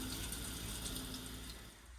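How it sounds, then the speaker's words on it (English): Hot water runs steadily from a tap inside an Auto-Trail Delaware motorhome, a continuous close hiss and splash that holds level for two seconds with no talk. "Here we've got the hot water running."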